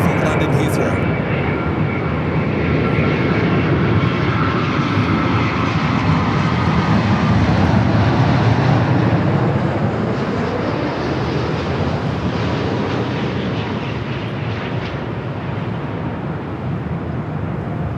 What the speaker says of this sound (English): This is Flight 7 coming in from London Heathrow.